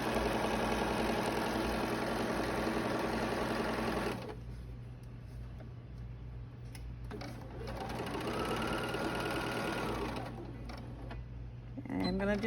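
A Bernina sewing machine sews mitred quilt borders and runs fast in a close, loud whirring burst, pauses briefly, then sews again for a short back tack, with a steady low hum throughout.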